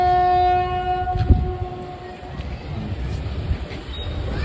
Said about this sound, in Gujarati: એ ટ્રેન આવી મુંબઈની ટ્રેન આવી